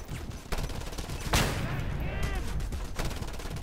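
Gunfire in the game Just Cause 2 cracks out in repeated bursts, with one louder blast near the middle amid steady rattling shots, mixed with game noise at low level.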